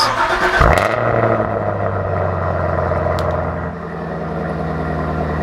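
A Chevrolet Camaro SS engine cranks and catches by remote start, then settles into a steady, fairly loud idle with a low hum.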